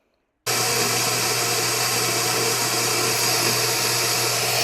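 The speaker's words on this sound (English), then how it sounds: "And then I throw on my blender and I blend it all." A blender whirs protein pancake batter at a steady, loud, high-pitched drone from a sudden start onward, with no pauses or voices.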